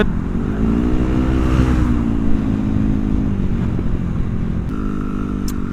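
A bore-up Yamaha Aerox scooter revs hard and steadily in heavy traffic, its engine note rising and falling loudly and close, with a few sharp pops near the end.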